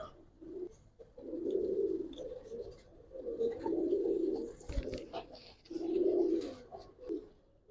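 Giribaz pigeons coo in three loud, rolling bouts close by, with short pauses between and a faint clunk midway.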